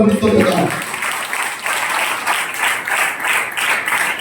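Congregation applause at a church gathering, a dense wash of many hands clapping loudly and continuously after a brief spoken phrase at the start.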